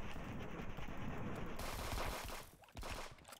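Rapid automatic gunfire and shots from a multiplayer shooter video game, a dense continuous burst of firing that shifts tone partway through and then briefly drops away near the end.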